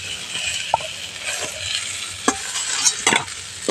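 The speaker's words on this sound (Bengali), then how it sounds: "বাকি পটলগুলো একইভাবে ভেজে নেব।" Pointed gourds (potol) fry in hot oil, a steady close sizzle broken by several sharp metallic clinks and scrapes as they are turned in the pan.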